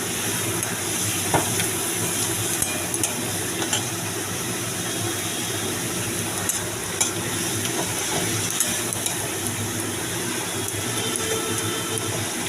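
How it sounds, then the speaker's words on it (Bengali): Onion, tomato and ginger-garlic paste sauté in a hot pan, giving a steady, dense sizzle of frying that runs unbroken throughout, with faint scattered crackles and stirring clicks. "পেঁয়াজ, টমেটো আর আদা রসুন বাটাটা আমি দিয়ে একবারে কষাতে থাকছি"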